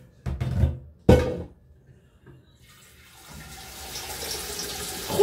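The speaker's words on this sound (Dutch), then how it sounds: "Dus, hier ga ik eerst water in doen." Water running from a tap into a cooking pan, starting after a couple of clunking knocks and building into a steady, rising rush of flowing water, close and fairly loud.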